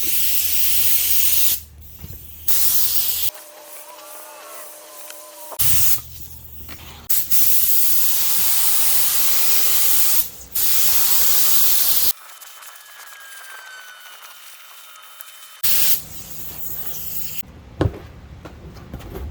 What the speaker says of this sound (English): We'll spray the styrofoam, then we'll spray the Luan